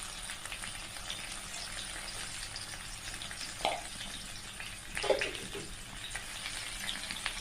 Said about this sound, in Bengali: এগুলোকে এবার আরও কিছুক্ষণ ভেজে নেব।